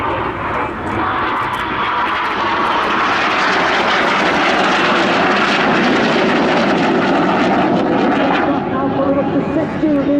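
Red Arrows jets fly a display at RIAT 2025 with a loud, sustained roar that swells and holds for the whole span. A commentator talks over it.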